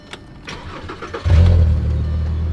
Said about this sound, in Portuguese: Vocês sabem que ele tem motor 5 cilindros. Motor bem cuidado, sempre revisadinho.